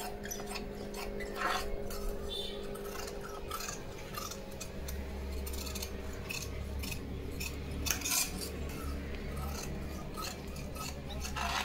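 Scissors cut blouse fabric for a size-28 four-tuck blouse, giving soft, quiet snips and rubbing strokes close by over a low steady hum, with no talk.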